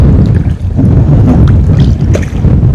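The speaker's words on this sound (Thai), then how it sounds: "ลมแรงครับ อุปสรรคก็คือลม" Strong wind outdoors at a lift-net fishing spot on natural still water, loud gusting buffeting across the microphone that roars steadily with brief dips and surges.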